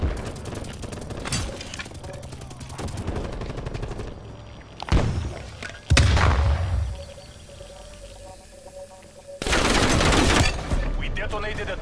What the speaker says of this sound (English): We detonated a dirty bomb.